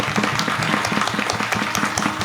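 Sustained applause from a kirtan audience at a village saptah gathering in Jamgaon, Sinnar, a dense crowd of hands clapping steadily and loudly throughout without pause.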